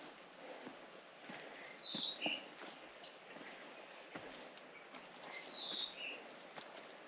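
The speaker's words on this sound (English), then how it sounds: "You hear birds around you." Birds call in a forest in Iao Valley, Maui, with a couple of bright, high chirps standing out over a steady, hissy outdoor background.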